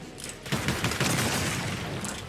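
A cannon fires in a squad-based online shooter game, a dense barrage of booming blasts that swells after a short pause and rumbles on continuously, loud and close.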